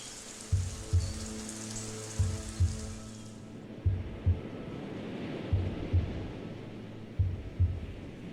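Ocean wash in alpha-theta neurofeedback training audio, a soft rushing surf bed under a low thumping heartbeat-like drum pulsing in regular double beats, with faint hiss fading early.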